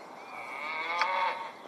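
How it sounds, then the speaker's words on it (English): A cow moos from an iPad video game, one drawn-out, fairly loud low call that swells briefly near its end, heard alone with no talk. "Don't say moo to me."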